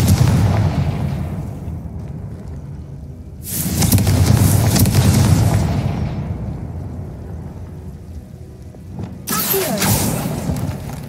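Explosions from the Confringo spell in Hogwarts Legacy, loud booming blasts that swell and fade, with a second burst near the end.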